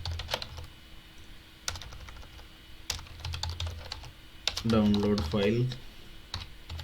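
Keys clatter in quick irregular bursts on a computer keyboard while code is typed, quiet and close, with a voice speaking briefly over the clicking near the end.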